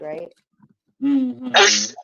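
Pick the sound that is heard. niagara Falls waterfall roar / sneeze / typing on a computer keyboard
sneeze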